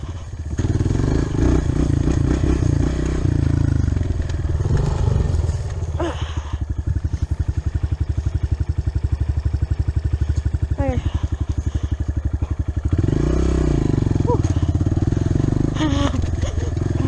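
A motorcycle ridden at speed, its engine droning loud and steady with shifting pitch as it revs and settles, over wind rumble, with a rider talking intermittently over it.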